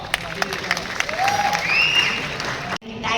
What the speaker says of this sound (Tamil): ஒரு பெரிய கரகோஷத்தோட நம்ம கருணா சார் மேடை கிடைக்கலாம்